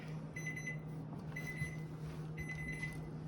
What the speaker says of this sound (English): It was a 2-minute timer.